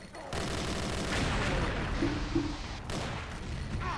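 Sustained video game gunfire in XSHOT Mummy 2, a Pharaoh giant stage, with dense continuous shots from start to finish, loud and close and never letting up.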